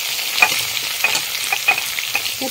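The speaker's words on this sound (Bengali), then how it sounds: "সবজিগুলোকে সব আমি এখন ভেজে নেব।" Mixed vegetables fry in a pan with a steady, bright sizzle, interrupted every half second or so by the scrape and clatter of stirring, close up and with no voices.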